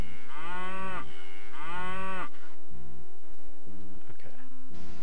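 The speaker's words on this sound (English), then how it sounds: "It's just a cow." A cow in the video game Daggerfall gives two long, loud mooing calls in quick succession, followed by quieter game background sounds with no talk.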